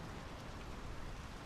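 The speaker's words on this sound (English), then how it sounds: "The rain's picking up." Steady rain in the video game Draugen, a dense even hiss of falling drops with no break, loud and close, no voices over it.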